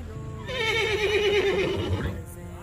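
Horse whinnying at a Punjab village farm, a long, loud, wavering neigh that rises and falls for about two seconds, heard close and alone against quiet background.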